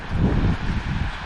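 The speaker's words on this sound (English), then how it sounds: "I don't know if you can hear me over the wind" Strong, steady wind roars at the Grand Canyon in autumn, a loud continuous low rumble that gusts slightly and never drops away.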